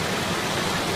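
Water rushes continuously over a waterfall in an animated children's show, a loud, close, steady broadband roar without breaks.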